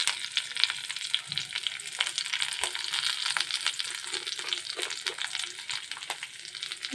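Chopped onion, bay leaf and dried chili frying in hot oil with browned garlic for lentil dal make a lively, crackling sizzle close by, with scattered stirring clicks and no speech.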